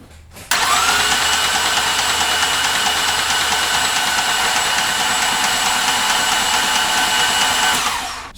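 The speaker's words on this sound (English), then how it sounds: "I'm going to crank the engine over and slowly build oil pressure." A GM 3.6L GDI engine in a 2008 Cadillac CTS cranks over after a timing chain replacement to build oil pressure, giving a loud, steady starter whir for about seven seconds that starts abruptly and stops without firing.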